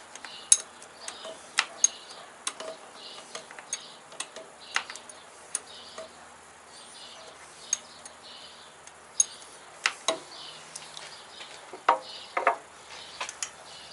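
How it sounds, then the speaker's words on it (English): Wrench backing out the battery nut on a Harley Sportster, producing sparse light metallic ticks and clicks at an uneven pace, close and fairly quiet against a still background. "I have to take a wrench and back it out a few more turns"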